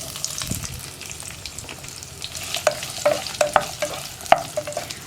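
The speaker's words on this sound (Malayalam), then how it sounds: "ഇതിലേക്ക് നമ്മൾ ഇനി ചേർക്കുന്നത് നമ്മുടെ നെല്ലിക്കയാണ്. നെല്ലിക്കയും ഒന്ന് വഴറ്റിയെടുക്കാം." Indian gooseberries sautéing in oil over a low flame for a lemon and gooseberry pickle, a soft sizzle broken by repeated scraping stir strokes and light taps of a spoon on the pan.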